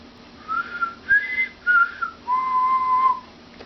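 A person whistles a short tune at a comic convention booth: three brief rising notes followed by one longer held tone, clear and close with no talk over it.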